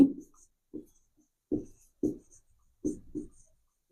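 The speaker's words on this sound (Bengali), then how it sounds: "দেখো কি লিখি আমি এখানে" Someone writes on a board during a Bengali grammar lesson, producing short, distinct scratching strokes in an uneven rhythm, close and fairly clear with no talk over them.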